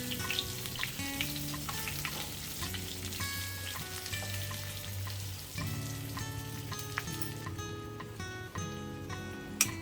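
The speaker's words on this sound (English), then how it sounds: "once it is heated, add the brinjals, stuffed brinjals, and fry them for about 2 minutes" Masala-stuffed brinjals frying in oil in a pan over a low flame, giving a steady soft sizzle heard close by, partly under background music.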